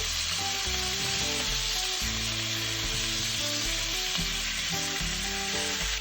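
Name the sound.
belly pork frying in a pan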